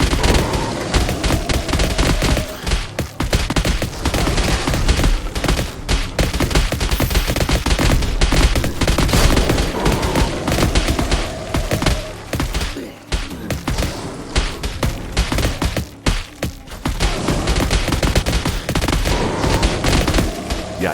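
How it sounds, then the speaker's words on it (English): A video game turret firing continuously: rapid, loud machine-gun-like shots packed densely throughout, with a few brief dips in the stream. "Why is that turret shooting out that way?"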